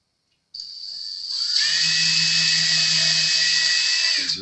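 A power drill bores pilot holes into a Jazz Bass body, a single continuous run of about four seconds with a high whine and a steady lower motor hum, loud and close, with no talking.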